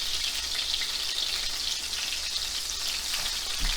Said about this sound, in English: So we're going to let these cook for about 2 minutes aside until they get nice and golden brown.